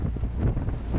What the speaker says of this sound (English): Wind's blowing from the north, 10 to 20.